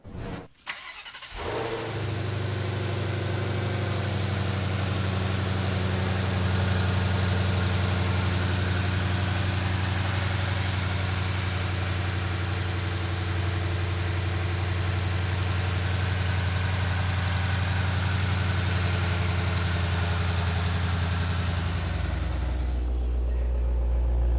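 A 2021 Ford Mustang Shelby GT500 V8 starts up and settles into a loud, steady, deep idle close by, holding a rumbling drone for over twenty seconds with no talk.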